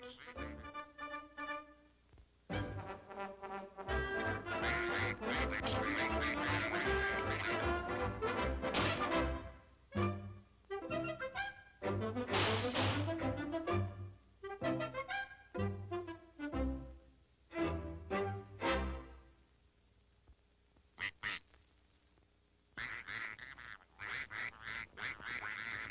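Cartoon ducks quack in rapid, overlapping bursts, loud and dense at times, with brief pauses between flurries.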